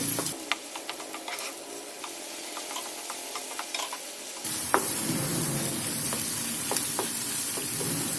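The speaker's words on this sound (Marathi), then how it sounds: "टोमॅटो सुद्धा व्यवस्थित भाजून घ्यायचे" Finely chopped tomatoes sizzle and fry in a hot pan for an Indian-style Chinese fried rice, a steady dense hiss with occasional stirring clicks, the sizzle growing louder and fuller partway through.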